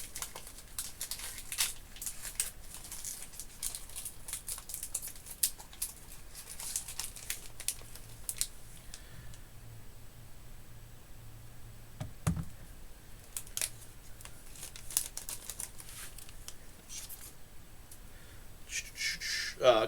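Foil wrapper of a hockey trading card hobby pack being torn open, with steady crinkling and rustling close by and a sharper rip in the middle, plus a few louder crinkles at the end.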